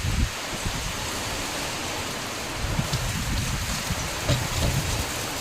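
Heavy rain roars down in a loud, continuous wash, with low rumbling gusts of strong wind beneath the steady downpour.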